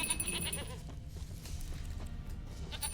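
A goat bleats in The Witcher 3 game world, faint and intermittent over low ambient rumble, with a few short cries spread across the moment.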